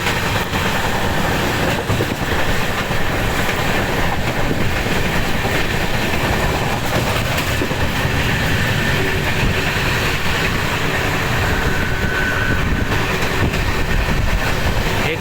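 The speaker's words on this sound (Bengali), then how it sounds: "এখন যে ট্রেনটা আসছে সেটা হচ্ছে হাওড়া হামসাফার।" The Howrah Humsafar express, a fully 3-tier AC train doing about 130 km/h, roars past close at hand in a loud, continuous rush of wheels, with clickety-clack and occasional faint squeal.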